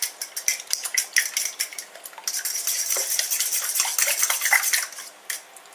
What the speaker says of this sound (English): Now we only whisk this gently.